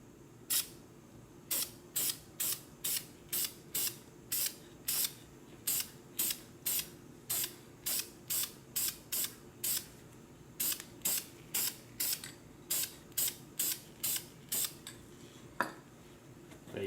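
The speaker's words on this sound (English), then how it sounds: "give your can a nice shake. And go ahead and paint it." Short hissing bursts of aerosol spray paint coat an S&W M&P 15-22 rifle magazine, about two dozen quick, evenly spaced sprays repeating steadily and close by with no talking.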